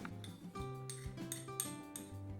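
A spoon clinks and scrapes repeatedly against a bowl, stirring a chicken marinade with mustard, salt and rosemary in a steady rhythm, close and fairly quiet, with faint ringing tones.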